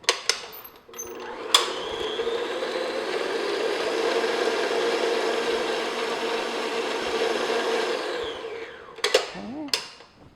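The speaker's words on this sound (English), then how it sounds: "I'm going to add the eggs one at a time, beat one in and then the second." An electric mixer beating eggs into coffee cake batter runs as a steady whirring drone for about eight seconds, with clicks and knocks of the bowl or beaters before it starts and after it stops.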